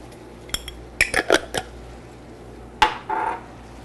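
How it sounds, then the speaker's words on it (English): A spoon stirs stuffing seasoned with parsley, sage and thyme in a pot, giving a short run of close metallic clinks and scrapes, then a pause, then another clank and scraping stir. "Give it a good stir"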